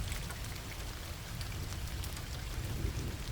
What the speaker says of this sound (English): The rain beats furiously against the window, as if the sky itself had decided to release all its rage at that moment